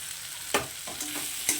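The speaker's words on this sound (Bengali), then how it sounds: "আলুগুলো এবার মশলাটার সঙ্গে একটু কষিয়ে নেব" Fried potatoes stirred through masala in a pan, a soft sizzle broken by a few quick spatula scrapes, close and moderately quiet.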